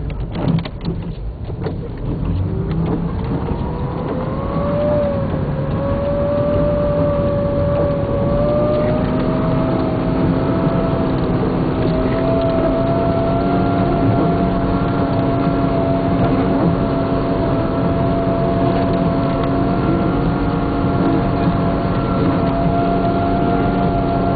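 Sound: Mitsubishi Pajero engine driving on a snowy mountain road

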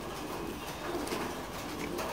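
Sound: Thai Titan pigeons cooing on a pigeon farm

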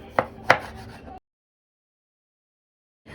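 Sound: chopping food with a knife

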